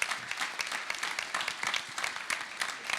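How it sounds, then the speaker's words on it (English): Conference audience in a theatre applauding the Foreign Secretary and Minister for Women and Equalities at a party conference fringe event; steady, fairly distant crowd clapping with dense overlapping claps and no voices. "please join me in giving a big round of applause to Foreign Secretary and Minister for Women and Equalities"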